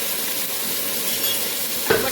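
Fish frying in a frying pan, a steady close sizzle hissing throughout, with a brief clatter of the pan or utensil near the end.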